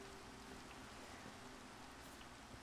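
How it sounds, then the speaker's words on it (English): Rain falls in Minecraft, a steady, faint, even hiss with no other sounds. "Of course, it's raining."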